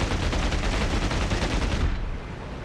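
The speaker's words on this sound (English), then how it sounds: "you want to get pretty close to to your enemy before you unleash the cannon" Bf109 fighter cannon firing in the DCS flight simulator, a loud sustained burst of rapid automatic shots lasting about two seconds, then fading into engine and wind noise.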